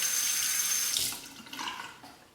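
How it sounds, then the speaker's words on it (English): Hot water pours from a tap over a razor, a loud steady hiss that cuts off partway, leaving faint drips and splashes. "temper the razor under the hot water"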